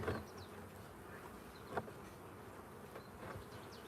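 Honeybees buzz steadily and close by as a hive is opened for inspection, a dense continuous drone with a few brief knocks and rustles from handling the frames.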